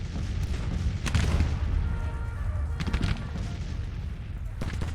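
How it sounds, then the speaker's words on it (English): Artillery cannons fire in the Grand Tactician: The Civil War video game, with faint, distant booms and crackling volleys scattered over a steady battlefield rumble. "So our cannons, I think, are just shooting at that guy."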